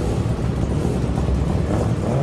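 A street-legal car runs at an HKS-sponsored street drag racing meet, giving a continuous loud engine roar and rumble that fills the scene without pause.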